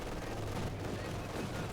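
Dense battlefield gunfire from Company of Heroes 2, with machine gun bursts and heavier cannon-like thumps raining in a continuous rattle at fairly loud level, overlapped by a caster talking.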